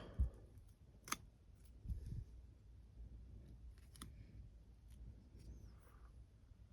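A Chinese elm bonsai is pruned with small crisp snips, a few sharp isolated clicks spread over several seconds, close but quiet and fairly soft, with light handling noise between them and no speech.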